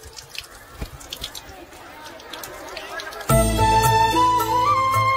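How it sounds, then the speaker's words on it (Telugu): Water drips from a broken tap in a quiet room as a few faint, irregular drops fall, and then loud sustained background music suddenly takes over. "ట్యాప్ పాడైపోయింది. నీళ్లు చూడు ఎలా వేస్ట్ అయిపోతున్నాయో."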